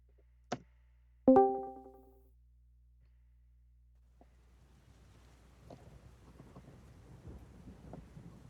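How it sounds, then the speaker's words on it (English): Rolling thunder from a massive thunderstorm sounds sharply once, then rumbles loudly, followed by a building patter of rain on the ground. "This massive thunderstorm that seems to be encompassing"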